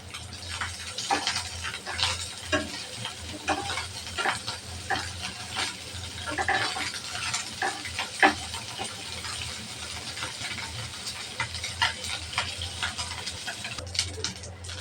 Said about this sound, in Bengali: মাছটা হালকা ভেজে নেব